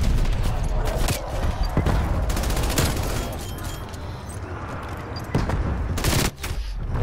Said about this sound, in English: Oh, bullets.